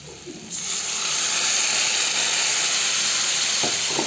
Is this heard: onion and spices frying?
yes